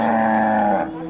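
A dairy cow at the Modnimb cow market lets out one loud, sustained moo lasting about a second, close by and heard alone, with the call trailing off at the end.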